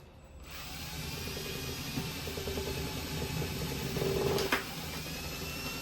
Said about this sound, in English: the final hole that we're going to drill is for the 1/4 inch hose line